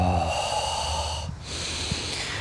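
A slow breath pushed out during a Qigong breathing exercise, steady airy noise for about a second before fading, followed by a brief pause and a couple of soft sniffs or breaths close by.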